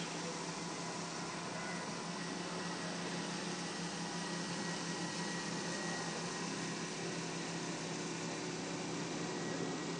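A floor machine microabrades a stone floor with a wet slurry, giving a continuous broadband hiss and hum that holds steady throughout, close and unbroken, with no talking.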